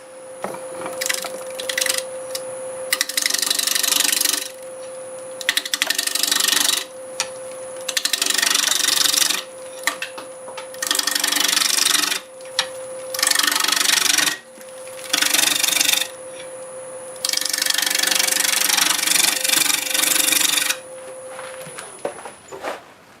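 A wood lathe cuts a black walnut turning, with repeated bursts of harsh scraping and chattering as the tool engages the spinning wood. The bursts alternate with quieter stretches of motor hum, and a steady tonal whine runs throughout.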